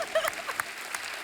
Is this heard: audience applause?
yes